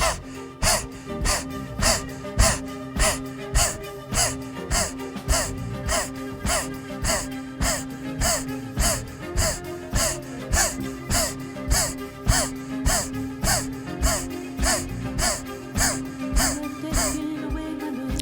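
Rapid rhythmic panting breaths with the tongue out, imitating a dog, repeating steadily about twice a second over a low background tone.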